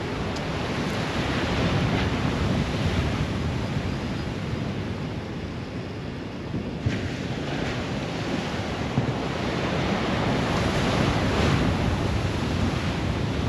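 Sea waves at Casiguran wash steadily onto the shore under a constant wind rush, a loud, unbroken surf roar with no one speaking.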